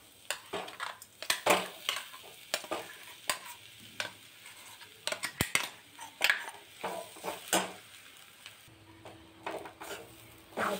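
Pigeon pea paste with ground roasted cumin sautéed in a pan, heard as repeated scraping and stirring strokes with a soft sizzle underneath, fairly quiet and close.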